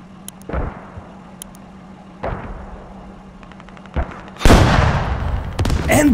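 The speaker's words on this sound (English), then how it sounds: "Leopard 2A6 returns fire." A Leopard 2A6 tank returns fire during a Squad match, with a few sharp booming shots spread across the clip, the last one loud and close with a long rumbling tail.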